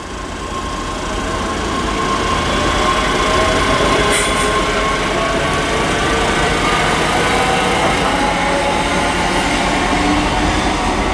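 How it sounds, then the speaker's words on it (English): A ScotRail class 385 electric train pulls out of Stirling station on a service to Dunblane, a loud, steady rolling rumble of wheels and motors with a brief high squeal partway through. No one speaks. "That's 385007 departs with the ScotRail service to Dunblane."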